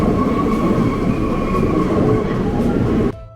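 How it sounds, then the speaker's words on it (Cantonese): A Paris metro train in motion, heard from inside the carriage: a loud, steady rumble with a humming whine that runs unbroken, then drops off sharply just before the end. "咁我哋咧去羅浮宮咧搭地鐵都好快嘅啫"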